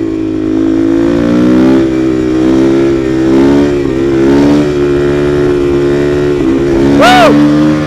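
A supermoto motorcycle engine revs hard and climbs in pitch as it pulls through third gear, loud and close, with a brief sharp rev spike near the end.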